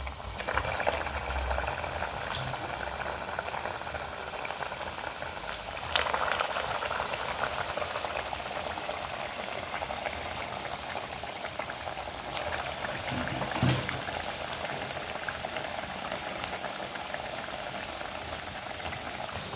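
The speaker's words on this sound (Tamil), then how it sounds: "இப்போ வந்து இதை எண்ணெயில் போட்டுடலாம்." Tapioca vada frying in hot oil, a continuous dense bubbling sizzle that holds steady throughout, close and moderately loud, with occasional brief swells and no voices.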